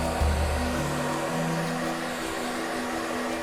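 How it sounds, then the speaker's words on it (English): A hairdryer runs steadily at close range, a continuous loud whooshing drone with a low motor hum whose pitch shifts slightly as it starts, then stays constant throughout, with no talk. "Those votes still legible in the morning are deemed to be valid and are then dried out with a hairdryer"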